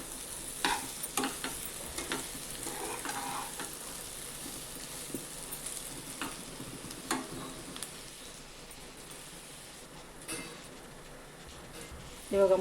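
Diced potatoes for a dry Maharashtrian potato bhaji cook in a pan over a lowered gas flame, giving a steady soft sizzle under repeated scraping stirs of a spoon, with a sharper clatter near the end.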